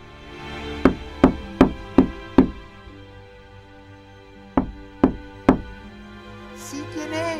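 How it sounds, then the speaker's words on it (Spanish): Knocks on a wooden door: five quick raps, a pause, then three more, loud and close in a quiet room, with a faint voice starting at the very end. "después de tocar la puerta"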